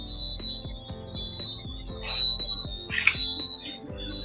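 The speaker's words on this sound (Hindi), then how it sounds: "उसके लिए अलार्म आ रहा है, आपका सिस्टम हो गया बंद" Riello 250 kVA UPS alarm sounding after its output switch is closed, a steady high-pitched tone over repeating mechanical clicks, with a few brief chirps in between.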